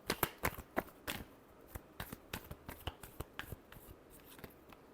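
Tarot cards being shuffled for a final pass before a reading, a quiet run of crisp papery flicks and riffles, quicker and louder at first, then easing into evenly spaced soft card snaps.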